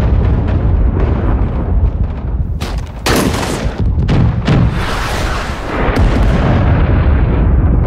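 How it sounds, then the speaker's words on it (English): A grenade blast in Rising Storm 2 during a battle for Hue, set amid continuous loud gunfire and booming artillery-like impacts. A sharp, bright explosion bursts out around the middle, and other heavy booms follow. "that was a grenade"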